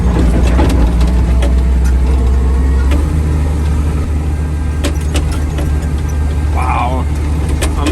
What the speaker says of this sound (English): this is so weird driving through corn.